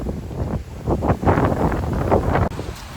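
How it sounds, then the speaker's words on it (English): Strong wind buffets the microphone in loud, continuous gusts that rise and fall, with a low roaring rumble throughout and no talking. "I gotta say, guys, the wind today is absolutely crazy. It is so fucking windy."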